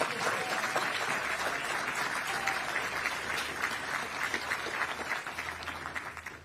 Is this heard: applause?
yes